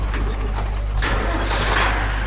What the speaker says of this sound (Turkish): gördüğünüz gibi Fendt Farmer 310 LSA isimli traktörü kullanabiliyoruz